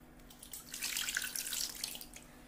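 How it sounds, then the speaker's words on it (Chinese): Fish slices are rinsed in clean water, with close, splashing and trickling water that swells in the middle and then eases off, over a faint low hum. "再用清水反复淘洗干净"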